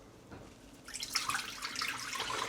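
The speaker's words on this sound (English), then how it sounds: "we're going to pour 500 milliliters of beef stock into the slow cooker" Beef stock, 500 millilitres, poured into a slow cooker for a hearty beef stew, a steady close splashing trickle that starts about a second in and keeps running.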